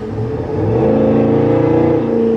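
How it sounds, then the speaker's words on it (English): The deep, throaty CORSA aftermarket exhaust of a 2022 Cadillac Escalade Sport drones and rises as the SUV accelerates, steady and loud, heard from inside the cabin. "this is my first drive with the exhaust and it just"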